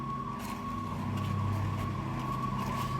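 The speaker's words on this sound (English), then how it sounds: "Every time it starts raining, the sirens go off." Emergency sirens sound outside, a steady held tone at moderate distance over low background rumble, with no talking.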